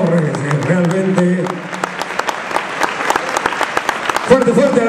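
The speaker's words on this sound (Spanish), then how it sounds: "Fuerte, fuerte el aplauso." An audience applauds after a stage performance, with steady, dense clapping filling the room while a voice speaks over the start and again near the end.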